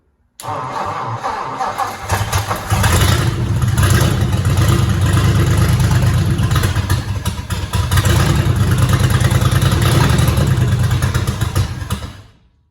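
A 1954 Ford Customline engine from an abandoned restoration project fires up and runs, a loud, close, rough clattering idle that holds steady for about twelve seconds before cutting off.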